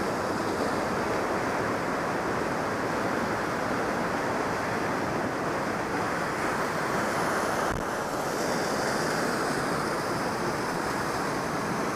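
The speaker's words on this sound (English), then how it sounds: "Swiss glacial waterfall." A Swiss glacial waterfall roars in a continuous, loud, broadband rush close by, steady throughout with a brief dip near the end, no voices.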